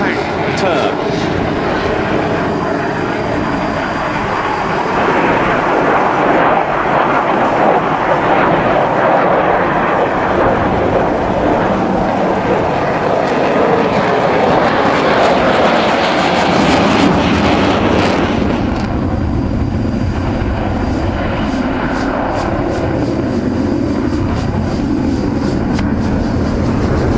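Saab JAS 39C Gripen fighter jet of the Hungarian Air Force in a high angle of attack turn during an airshow display, a loud continuous engine roar that swells and shifts in pitch, with a public-address commentator talking over it.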